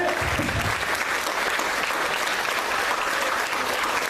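A church congregation applauds during a family worship service with communion, dense steady clapping that fills the room at an even, loud level with no pause for the full length.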